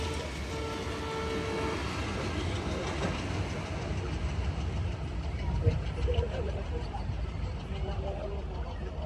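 The Nakshikatha commuter train, crowded with passengers, runs along the line with a continuous loud rumble and rhythmic clatter of its wheels, steady from start to finish.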